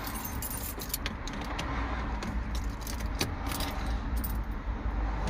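BMW 5 Series E60/E61 car keys jangle continuously for several seconds, a close, bright metallic rattle with small clinks throughout.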